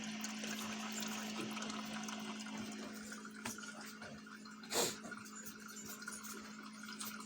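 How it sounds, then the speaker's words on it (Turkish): Water trickles and gurgles as it is added to an egg incubator through an opening without lifting the lid, a soft continuous flow with a steady low hum and one brief splashy burst midway. "su ekliyorum. Buradan ekliyorum. Makinenin kapağını açmadan ekliyorum."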